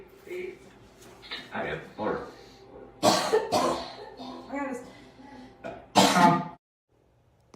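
Several sharp, loud coughs from a person indoors burst out in quick clusters over a murmur of background sound, then the room falls quiet.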